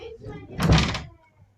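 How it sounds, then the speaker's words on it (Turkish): A house door is pushed shut with one loud, close thud, with voices talking just before it. "Oğlum kapat şu kapıyı"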